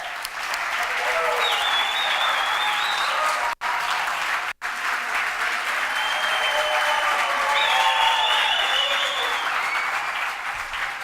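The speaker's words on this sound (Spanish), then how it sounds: "Con todos vosotros, un fuerte aplauso" An audience breaks into loud, sustained applause to welcome a speaker onto the stage at a talk on nonverbal communication, with a couple of brief dropouts and faint voices in the crowd.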